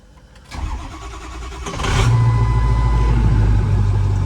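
A 6.0 Powerstroke diesel race truck with a swapped automatic transmission settles into a loud, steady idle rumble after a clunk as it is put into gear and begins creeping forward, its low drone rising and holding close by.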